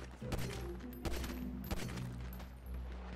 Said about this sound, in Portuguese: Tô escutando um tiro lá fora.